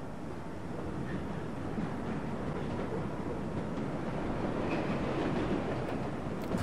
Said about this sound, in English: Another train coming in.